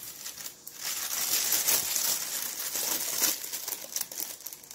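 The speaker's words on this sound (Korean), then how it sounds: "이제 마지막으로 비닐만 잘라줄 겁니다" Thin plastic sheeting crinkles and rustles steadily while being cut to line a wooden succulent planter, a close, continuous papery crackle with no voices.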